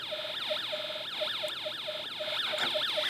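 Snap Circuits alarm IC siren, its tone altered by an electromagnet with a rod inserted, producing a steady warbling electronic siren that sweeps up and down in a fast repeating pattern, loud and continuous.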